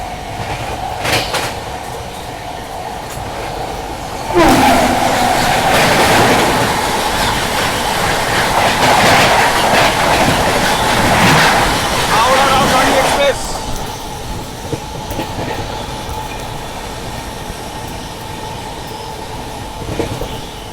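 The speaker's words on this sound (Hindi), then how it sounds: "गरीब रथ स्पेशल ट्रेन है" A Garib Rath special train runs along the rails at night. The car rumbles steadily, a louder stretch of wheel noise and rattling stands out in the middle, and faint voices carry beneath it.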